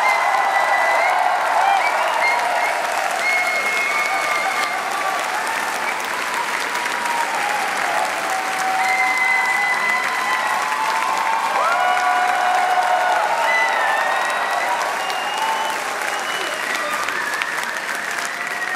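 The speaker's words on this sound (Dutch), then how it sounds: "APPLAUS." A large crowd applauds steadily at a political campaign event in the Netherlands, a dense, loud, continuous clapping that lasts the whole stretch with faint cheers mixed in.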